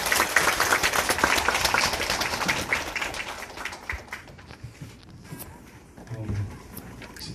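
A live audience applauds a city council member at a public hearing on a waste-to-energy plant, with loud, dense clapping that gradually thins and fades into scattered claps and a faint voice.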